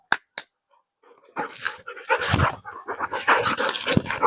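Two quick snaps, a brief pause, then a dog pants and huffs close by in rapid, uneven breaths.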